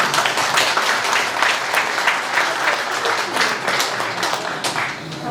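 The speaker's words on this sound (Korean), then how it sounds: "일어나서 박수 한번 해주세요." Congregation applauding during a Christmas Eucharist service at an Anglican church, a full, steady round of clapping from many hands, loud and continuous before easing off slightly.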